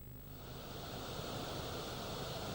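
Steady broadband roar of Ullim Falls, a scenic waterfall in North Korea, pouring down continuously and filling the scene at moderate level with no voices.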